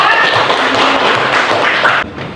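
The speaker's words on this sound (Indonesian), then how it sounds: "Ya, tepuk tangan untuk kelompok 2." Classroom applause for a student group, a dense burst of many hands clapping close by for about two seconds before cutting off.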